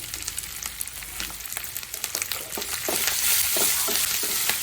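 Grated raw mango is stirred into a frying tempering with curry leaves for mango rice. A close sizzle runs under repeated scraping strokes of the spoon, and the hiss grows louder and fuller toward the end.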